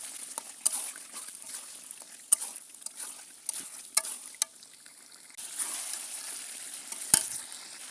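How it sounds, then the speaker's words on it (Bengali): Pre-fried chicken pieces stir-fried with spice masala in a pot, sizzling steadily while a spoon scrapes and stirs with intermittent sharp clacks, louder frying near the end, no talking. "মশলার সাথে ভালো করে কষিয়ে নেব।"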